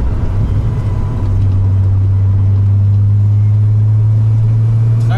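Turbocharged VW VR6 engine, smoking and under development, pulls under load with the charger building boost, a steady deep droning rumble holding close and loud inside the car throughout.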